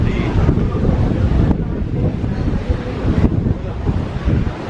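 Strong wind buffets the microphone in loud, uneven gusts on a beach at Agua Amarga, Spain, with the low roar of surf rolling underneath.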